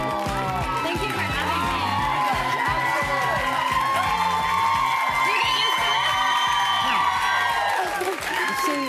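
A live studio audience on a Canadian daytime talk show cheers and applauds for a guest, with sustained clapping, whoops and excited shouts filling the room while a presenter talks over the noise.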